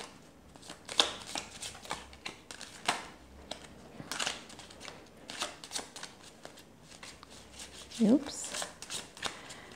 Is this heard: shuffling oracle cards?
yes